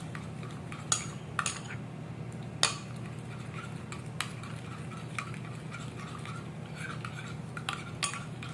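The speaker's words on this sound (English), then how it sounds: "Mix it very well with the coffee until the coffee ground dissolves." A spoon stirs coffee grounds into a mixture in a cup or bowl, with light metallic clinks and taps against the sides at irregular intervals over a soft steady background hum, close by and without speech.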